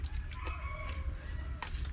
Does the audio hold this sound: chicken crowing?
yes